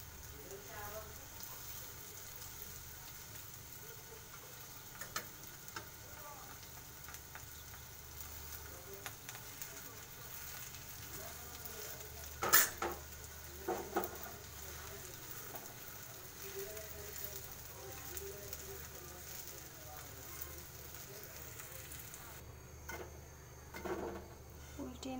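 Onions and tomatoes cook slowly in a pan over low to medium heat with a faint, steady sizzle, joined by occasional clinks of utensils against the pan.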